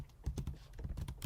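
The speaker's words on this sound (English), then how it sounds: "Do that by typing Python 3 in the terminal." Rapid keystrokes on a computer keyboard entering a terminal command to install Python, a quick, even run of clicks close to the mic, faint and alone with no talk.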